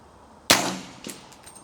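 A single sharp shot from a 300 Blackout rifle fitted with a DNT Optics HYDRA HS650R thermal scope during zeroing, loud and close with a sudden crack, a brief decaying tail and a faint distant echo after.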